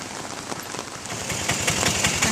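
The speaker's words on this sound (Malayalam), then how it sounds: "നല്ല മഴയുണ്ട്." Heavy rain pours down in Cochin, a dense steady hiss of drops striking surfaces close by, growing slightly louder over two seconds, with a faint low engine rumble underneath.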